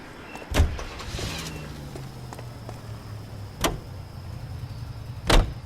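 A car in the L.A. Noire video game gives three sharp door-like thuds spaced a few seconds apart, with a low motor hum gliding steadily in between, close and clear without talk.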